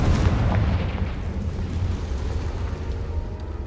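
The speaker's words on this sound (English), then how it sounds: "Confringo!" In the game Hogwarts Legacy, a Confringo fire spell detonates as a deep, rumbling blast with a broad roar that slowly fades over a few seconds.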